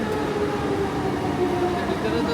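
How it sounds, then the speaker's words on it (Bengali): A metro train rumbles into a busy main junction station in Kuala Lumpur, producing a steady, close mechanical hum with faint tonal whine. "ট্রেন চলে এসেছে।"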